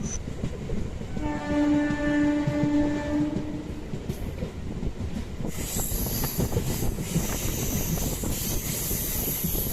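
A MEMU train rolls along the rails through forest between Palakkad and Coimbatore with a steady rumble and clatter, a horn sounding early on and high wheel squeal rising toward the end.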